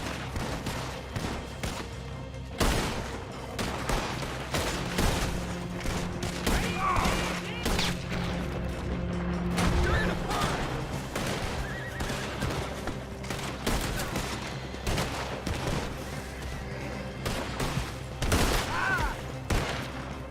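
A Red Dead Redemption 2 shootout keeps up a steady stream of scattered gunshots, with single cracks and quick volleys from several guns popping near and far for about twenty seconds over a low rumbling background.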